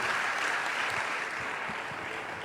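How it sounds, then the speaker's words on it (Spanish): Congregation applauding in a church service, a steady broadband wash of clapping that holds at an even level throughout without a clear start or finish. "Dale un aplauso al Rey."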